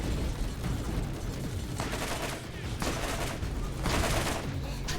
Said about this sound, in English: That big boy is firing them rockets off